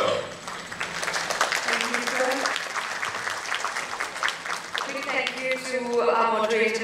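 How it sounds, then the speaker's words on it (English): An audience at a corporate boardroom panel event applauds, steady clapping running throughout while a voice speaks over it at the start and end. "let's give them another round of applause, please"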